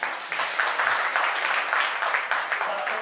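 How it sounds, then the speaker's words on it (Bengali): An audience at a Udichi cultural program in New York claps for the tabla accompanists, a fairly dense patter of many hands with a rippling, uneven rhythm, moderately loud and steady throughout. "সবাইকে আপনাদের পক্ষ থেকে করতালি দিয়ে তাদেরকে অভিনন্দিত করলে খুশি হব।"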